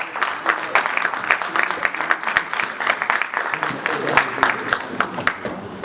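Applause from an audience welcoming a guest at a Brussels community face-to-face event, steady clapping with scattered sharper claps filling the room, moderately loud, with some voices mixed in.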